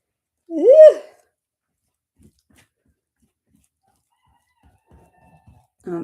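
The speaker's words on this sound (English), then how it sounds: "Sorry if you just heard that. That's my rooster out there." A single short rooster crow rings out near the start, followed by near silence with a few faint distant noises.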